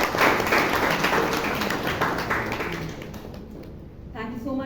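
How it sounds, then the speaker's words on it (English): Applause at a Toastmasters club meeting in Bangalore, a dense, steady wash of many hands clapping that fills the space and slowly thins toward the end. "Let's give him a huge round of applause."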